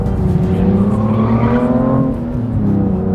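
A 2016 BMW M2 with traction control off in Sport Plus mode, its turbo engine droning loud and close under load with rising and falling pitch, accompanied by tyre noise and no auto-blip on shifts.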